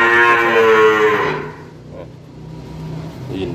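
A pair of cattle for sale, one moos once, loud and close, with a long drawn-out call that fades after about a second and a half, then quiet farmyard background with a faint low hum.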